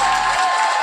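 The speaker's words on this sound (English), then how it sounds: "I think this deserves a round of applause" Short burst of applause closing a weekly mental health talk episode, loud and dense clapping filling the whole moment with no voices over it.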